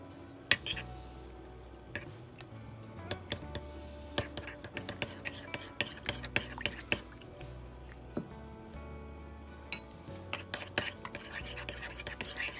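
Mascarpone gently stirred with rhubarb syrup in a bowl, giving soft, scattered scrapes and light clicks at low volume over a steady tonal background hum.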